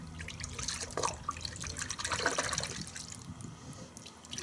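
Chemical Guys wash and wax car soap pours into a bucket with a soft, close, burbling splash and trickle that runs steadily throughout, with no talking.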